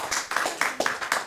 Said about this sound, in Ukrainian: нагородивши бурхливими оплесками Мартіна Олександра Кислого і Ольгу Духніч